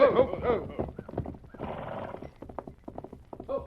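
A horse whinnies and its hooves clip-clop in a quick, uneven rhythm close by, mixed with other bustle.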